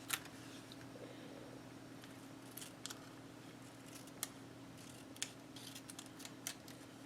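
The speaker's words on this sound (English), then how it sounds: "Let me just get it cut, and I shall trim it." Scissors snipping paper being cut and trimmed for a handmade waterfall folio craft, sparse sharp clicks spread over a steady low hum in a quiet room, no talking.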